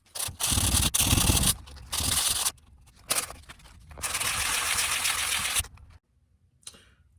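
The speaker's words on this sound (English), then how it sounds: "let me take a good old-fashioned piece of sandpaper on a sponge and try to get this sanded down" Sandpaper wrapped on a sponge is rubbed by hand over wood filler on a wooden TV armoire being converted to a wardrobe, giving bursts of rough, scratchy strokes with short pauses between them, close and fairly loud.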